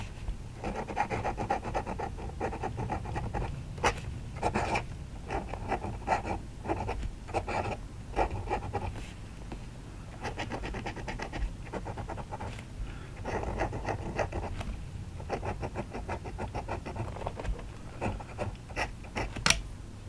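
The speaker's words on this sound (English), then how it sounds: "we're going to dip it and just see how that nib writes" Vintage Waterman's Ripple desk fountain pen with a dipped nib reported as slightly scratchy, scratching across paper in a steady series of short close strokes, with light rubbing and quiet background hum and no talking.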